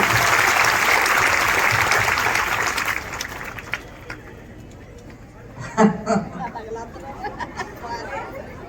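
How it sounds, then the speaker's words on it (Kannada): Loud audience applause at a Basava culture event, dense and steady for about three seconds before fading into a lone voice speaking over a low murmur of the crowd. "ಅವರು ಜೋರಾಗಿ ಚಪ್ಪಾಳೆ ಕಟ್ಟಬೇಕು"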